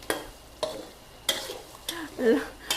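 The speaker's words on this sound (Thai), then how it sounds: "ใส่ลงไป นี่ ผัดจ้า ทีนี้เราก็ผัดทุกอย่างเข้ากันเลย" Pork ribs with their liquid and red curry paste are stir-fried in a pan: a soft sizzle broken by sharp spatula scrapes about every half second, close and clear.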